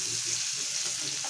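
Oil hitting a hot pan, giving a dense, loud, continuous hiss of sizzling with no pauses.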